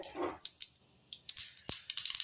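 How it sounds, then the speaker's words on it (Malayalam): Mustard seeds pop in hot oil for a bitter gourd pickle, giving a handful of sharp, irregular cracks close by over a soft sizzling hiss. "കടുക് പൊട്ടി വരുന്നുണ്ട്"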